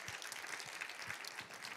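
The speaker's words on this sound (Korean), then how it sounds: "우리 박수 한번 주세요." Applause from a church audience during a Christmas sermon, a dense steady patter of many hands clapping, moderately distant and fairly quiet, filling the whole moment without any voices.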